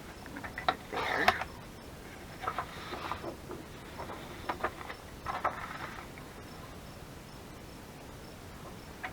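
Scissors snipping scrap paper to size for a 12 x 12 paper pocket page, a few crisp cuts in close succession, loudest near the start and again around the middle, with quiet gaps between.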